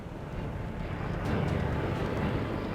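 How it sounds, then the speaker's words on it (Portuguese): A search airplane flies overhead as a broad, steady engine drone and rumble that swells slightly louder midway, heard alone without talking. "Eu consegui enxergar o avião claramente."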